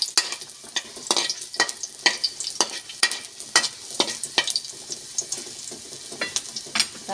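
An egg is stirred and fried in a pan, a spatula scraping in quick repeated strokes over a constant close sizzle.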